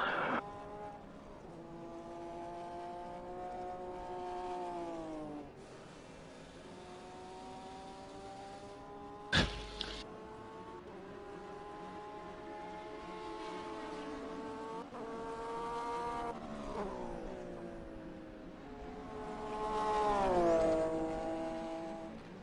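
A race car at the Nürburgring Nordschleife, past the Flugplatz during a 24-hour race, its engine rising and falling in pitch through repeated gear changes as it picks up speed, heard at moderate distance with one sharp knock midway.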